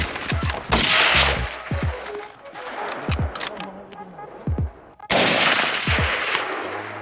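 Gunshots fired at wild boars on a Turkish farm: several sharp, close reports spaced irregularly over steady outdoor background noise, with people talking in between.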